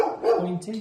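A pet dog barks close by in a home during a child's twelfth birthday, a few quick yaps mixed with people talking over it.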